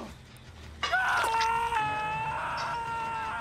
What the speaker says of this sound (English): Yep, I did hear a Sable scream.